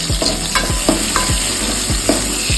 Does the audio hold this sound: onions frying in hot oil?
yes